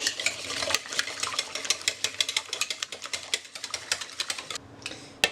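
Stirring crêpe batter with sugar in a bowl, a rapid run of close clinking and scraping strokes in an irregular rhythm.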